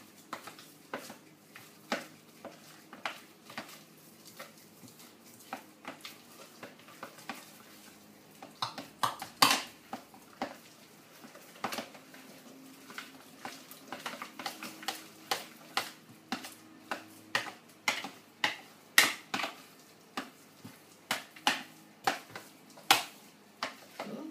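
A spoon mixes gluten-free hot cross bun batter in a bowl, giving a long run of sharp, irregular taps and clicks up close. The strokes grow louder and quicker in the second half.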